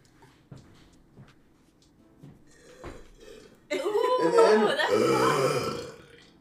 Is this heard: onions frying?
no